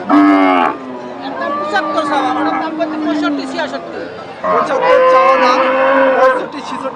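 Cattle moo loudly and repeatedly at a busy livestock market, long drawn-out bellows close by amid crowd chatter and someone talking.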